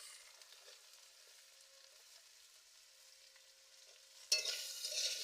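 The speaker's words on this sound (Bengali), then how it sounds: "ভেজে নেব আলুটা।" Potatoes cook in oil with crushed garlic and onion, starting as a faint, quiet sizzle. Near the end it jumps to a sudden loud burst of crackling frying as the pan is stirred.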